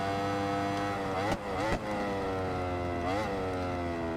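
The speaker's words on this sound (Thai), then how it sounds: "เปิดคันเร่งเต็มที่" An Aprilia motorcycle in the racing game Ride 4 screams at full throttle, its high engine whine climbing through the revs with two brief dips as it shifts gears, loud and continuous.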